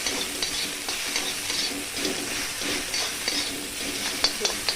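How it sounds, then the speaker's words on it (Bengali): Ginger garlic paste stirred in a pan over low-medium gas flame, a steady soft sizzle with rhythmic scraping strokes of a spatula throughout, close and alone without talk. "দেখুন আদা রসুনটা আমি দেওয়ার পর একটু হালকা করে নেড়ে নেবো"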